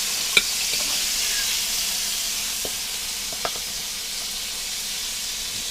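Pork chops and stuffed mushrooms fry in a pan with a steady, soft hissing sizzle. A few faint clicks and pops break through now and then.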